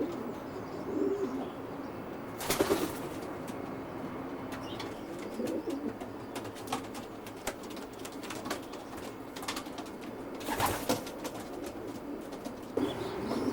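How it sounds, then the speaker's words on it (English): Racing pigeons in a stock loft give soft, low repeated coos, with occasional louder bursts of wing flutter or movement against a quiet indoor background; no one speaks. "This is a few of Calum's stock birds, and I must say they certainly look well and very comfortable in the stock loft"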